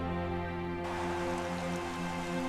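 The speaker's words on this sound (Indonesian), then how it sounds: "Hujan turun di atas lapangan Amerika." Rain falls steadily on a football pitch in America, a continuous hiss of drops with a low tonal hum beneath, no voices.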